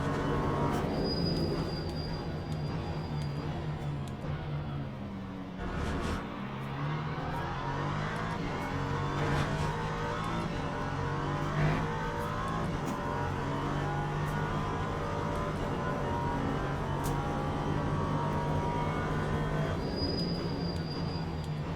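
An LMP3 race car engine in the Le Mans Ultimate racing game, a continuous roaring engine drone with rising and falling pitch through gear changes and brief high whines, loud and sustained throughout.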